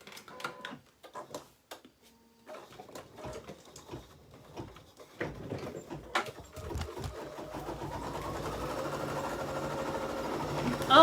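An embroidery machine stitches out a pumpkin stem, starting with scattered clicks and taps and building into a steady, close mechanical whir.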